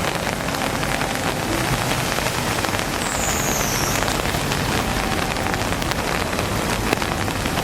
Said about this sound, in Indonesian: Hujan di Malang